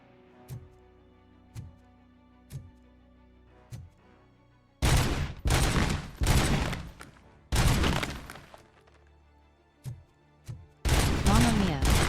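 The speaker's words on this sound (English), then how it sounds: "Ooh, a 50 caliber rifle." A .50 caliber rifle in a video game fires several sharp, spaced single shots, then gives way to loud, dense bursts of heavy gunfire with crashing impacts.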